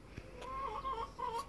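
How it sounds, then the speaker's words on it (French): Hens clucking outdoors beside a kitchen where coconut rochers are being shaped, a few short clucks and murmured calls at moderate distance, with no talk over them. "Taisez-vous les poules."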